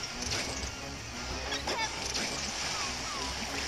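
Water splashing from a water attack in Zelda: Tri Force Heroes, a continuous noisy spray and slosh running throughout, with faint game sounds over it.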